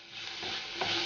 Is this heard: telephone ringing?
no